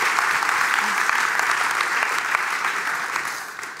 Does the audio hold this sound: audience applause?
yes